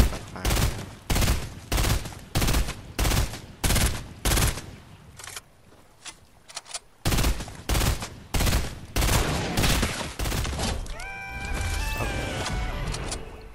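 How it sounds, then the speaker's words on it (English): Gunfire in the Fortnite battle royale game: a rapid series of loud, evenly spaced shots in bursts, a short lull, then more shots before the firing gives way to softer game sounds. "He's probably medding up, so I'm just gonna keep on firing."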